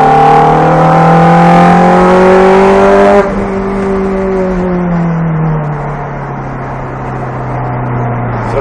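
A car accelerates down the straightaway of a cone-marked driving course, its loud engine tone climbing steadily, then easing after a gear change and pulling on at a lower pitch.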